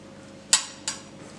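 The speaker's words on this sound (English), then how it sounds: "Just trimming the edges a little bit here so I can get rid of this excess pastry." Excess pastry edges trimmed from a home-made spinach-and-filo spanakopita, giving two sharp, close clicks of a utensil against a dish about a third of a second apart over a quiet background.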